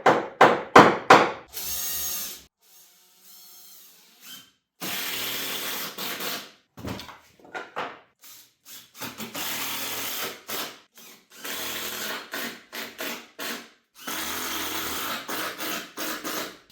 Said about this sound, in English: I'm going to set what I'm doing and get this top screw down now.